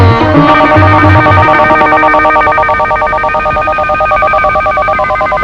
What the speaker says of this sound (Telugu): మీకు ఫోన్ వచ్చింది